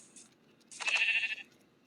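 A sheep in Minecraft gives a single short, fairly loud bleat over a quiet background.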